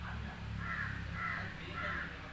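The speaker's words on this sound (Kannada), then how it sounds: "ಒಂದು ಕಾಗೆ ಭಾರಿ ಕೂಗ್ತಾ ಉಂಟು ಆಗದಿಂದ" A crow caws three times in a steady rhythm, clear but somewhat distant, over a low background hum.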